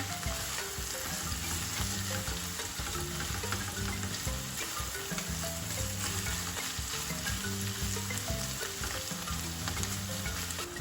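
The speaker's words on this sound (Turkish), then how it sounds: "Biraz da böyle kavuralım." Minced meat and green peppers sizzle steadily in a hot pan over high heat, a continuous crackling hiss with occasional scraping stirs and no voices.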